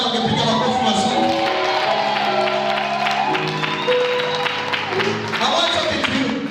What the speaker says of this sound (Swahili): Kama naongea na watu watakao sawishika leo, wangepiga makofi mazuri.